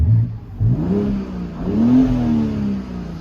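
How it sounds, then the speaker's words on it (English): A 2019 BMW X4 M Competition engine revs up and settles in Sport Plus mode, the exhaust note rising and falling in a deep, throaty drone, close by and fairly loud. "so it does make the exhaust louder when you put it on Sport Plus."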